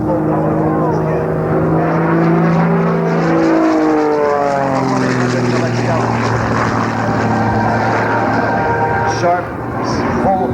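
Propeller aerobatic plane at a 1994 Rhode Island Air National Guard air show, engine note rising and falling steadily through a torque roll and power changes, loud and sustained with a commentator talking over it.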